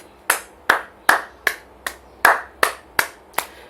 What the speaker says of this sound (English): a round of applause for the young